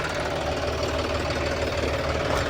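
John Deere 5210 V2 tractor engine running, a steady rumbling diesel drone with a rapid knocking pulse, loud and close, unchanging across the short stretch with no voices.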